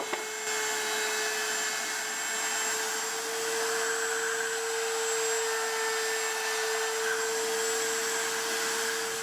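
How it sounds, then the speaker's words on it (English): Router table rounding over the outside edges and hole edges of wooden toy wheels, a steady loud motor whine with a sustained high tone running throughout, no speech. "I'm going to round over all the edges on the wheels. That's the outside edges as well as inside the holes on the router table."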